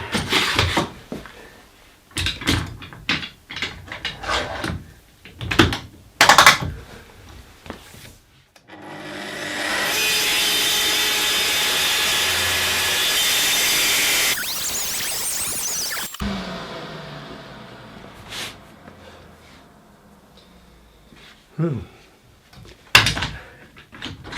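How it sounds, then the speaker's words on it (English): A power saw makes a long, straight bevel cut through wood for a wardrobe panel: several seconds of steady, loud rasping whine, framed by clamping knocks and handling clatter before and after. "for things like this, a long straight bevel cut, you bet I'm going to clamp it down."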